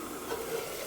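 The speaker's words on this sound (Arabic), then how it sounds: "هاو يتقلى" Meat frying in a pan while a meal is cooked, a steady soft sizzle and stir-like hiss running without a break, fairly faint and close, with no talking.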